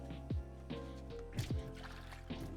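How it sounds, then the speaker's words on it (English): Water is poured and splashed into a pan of cooking veggie bean chilli, giving a few short gurgling glugs and sloshes up close with no talk. "I'm going to add some water."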